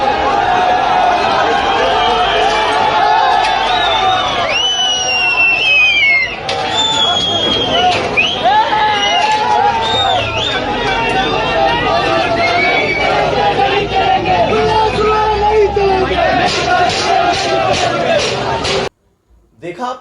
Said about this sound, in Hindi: मैं एक भीड़ आपको दिखाता हूं